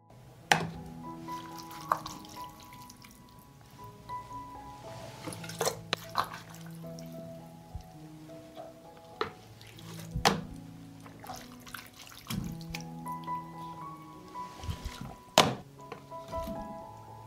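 Paprika mixture spooned into clean glass jars gives irregular wet thunks, soft squishes and drips, close and moderately loud, with quiet pauses between scoops.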